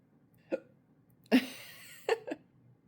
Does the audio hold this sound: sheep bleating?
no